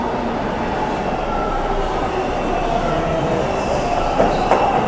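A train arriving at a station rumbles steadily close by with a constant rolling roar, and faint wheel squeals rise near the end.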